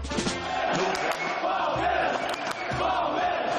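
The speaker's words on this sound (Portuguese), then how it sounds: "uma torcida que canta e vibra" Palmeiras football supporters fill the Allianz Parque stadium with a dense, continuous roar of singing and cheering, loud and enveloping from start to finish.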